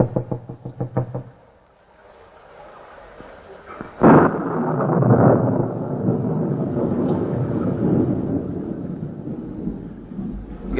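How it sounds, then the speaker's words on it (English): A thunderstorm effect from a 1949 radio drama: a sudden loud crack of thunder followed by a long rolling rumble and wind-like roar, after a few knocks. "there's a bad storm coming up"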